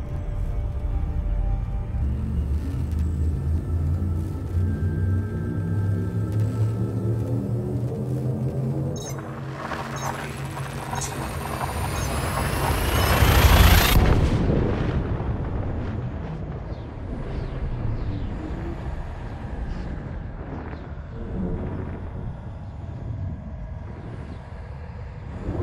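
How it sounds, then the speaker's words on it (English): A frame shift drive in Elite Dangerous charges with a deep, layered rumble whose tones climb steadily, then surges into a bright roaring jump burst and settles into a lower, sustained whooshing drone. "Shift drive charging."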